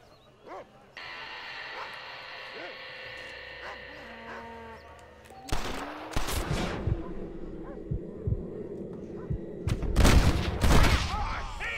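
Gunshots ring out in the Red Dead Redemption western video game, a cluster of sharp loud reports around the middle followed by another burst near the end, over a humming ambient game score.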